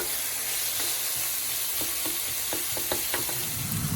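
Onions sauté in a pan with a dense, steady sizzle, close and loud, while a utensil stirs and scrapes with light repeated taps.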